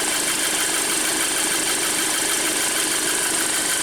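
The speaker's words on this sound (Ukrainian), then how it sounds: "у кого так рівно мотор працює?" An Audi A6 engine idles smoothly and steadily after a timing belt failure and repair, a loud, even, continuous hum with no talk over it.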